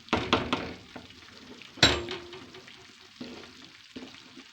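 A spoon scrapes and stirs thick semolina halva in a pan, with a soft sizzle, a sharp clink midway and a few light knocks.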